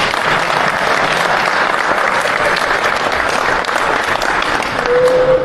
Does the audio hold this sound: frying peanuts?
no